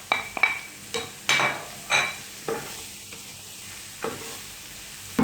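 Carrots and beans tipped into a frying pan, a series of sharp clattering drops and metallic clinks against the pan over a faint sizzle, spaced about every half second.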